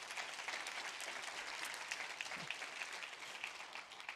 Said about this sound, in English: I think we can close this with a round of applause to all of you.